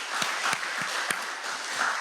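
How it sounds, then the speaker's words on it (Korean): Applause from a church congregation during a Sunday afternoon service, a steady wash of clapping with a few sharper claps standing out over roughly two seconds. "우리 먼저 박수 합시다."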